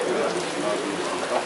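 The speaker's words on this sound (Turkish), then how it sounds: "Burada iyice bak yağmura." Rain falls outside a mosque, a steady, even hiss of drops on surfaces, moderately loud and continuous throughout the short stretch.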